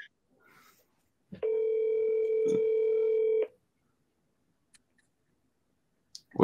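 A telephone dial tone holds steady and clear for about two seconds during a phone call, bracketed by a few soft clicks in otherwise quiet surroundings.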